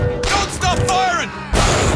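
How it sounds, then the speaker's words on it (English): Gunfire from the video game Bioshock Infinite erupts in loud bursts at the start and end of the clip, with shouted voices over the middle. "Don't stop firing!"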